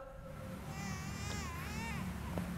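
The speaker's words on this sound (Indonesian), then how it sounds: "Saya dengar suara kayak suara tangisan bayi." An infant crying in a quiet, reportedly haunted hospital building, a faint, wavering wail rising and falling for a couple of seconds over a low background hum.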